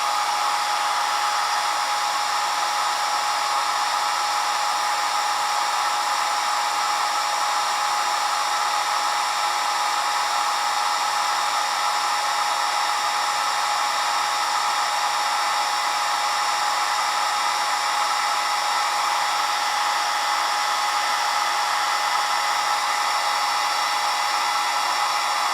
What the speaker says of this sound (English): Turning on the heat gun now.